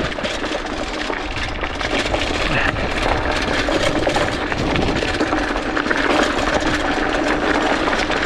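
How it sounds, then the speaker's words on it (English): A 2021 Trek Marlin mountain bike ridden on dirt, its rear chain rattling constantly amid rushing wind and tire noise, loud and continuous with no speech. "All that noise you hear is in the back with the chain."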